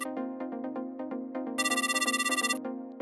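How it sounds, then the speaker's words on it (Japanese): A telephone in an editorial office rings with a repeated electronic tone pattern, then shifts into a continuous trilling ring for about a second before the tones return, loud, clear and alone. "週刊妄想編集部の電話が鳴りました。"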